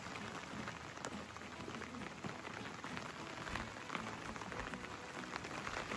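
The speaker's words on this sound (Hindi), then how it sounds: "इतनी तेज बारिश हो गई" Heavy rain pours down steadily in Castle Combe village, England, a dense, continuous hiss of drops drumming on surfaces close by, with no voices.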